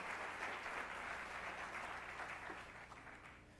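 An audience claps steadily in a large college staff meeting, applause for the staff sustained and fairly loud throughout before easing slightly toward the end.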